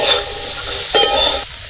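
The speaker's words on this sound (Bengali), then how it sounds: "বাটারের মধ্যে ভুট্টাটাকে একটু নাড়াচাড়া করে হালকা করে ভেজে দেবো।" Corn kernels fry in butter in a pan, a loud, steady sizzle broken by the scrape and clatter of a spoon stirring them.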